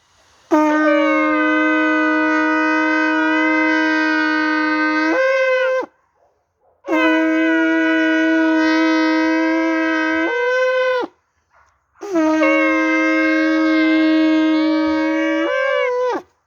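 Three long, loud, steady horn blasts of a shofar, each lasting about five seconds with brief pauses between, bright and brassy, sounded during a Christian prayer service.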